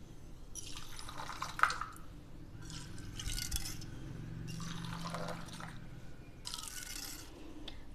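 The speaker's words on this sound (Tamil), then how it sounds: "இப்போ இந்த டிகேஷனை வந்து நல்லா இப்படி ஆத்திக்கலாங்க சக்கரை கரையற அளவுக்கு" South Indian filter coffee decoction with sugar is poured back and forth between two vessels to dissolve the sugar, making four soft, splashy streaming pours in a steady rhythm, quiet and close, with no voices.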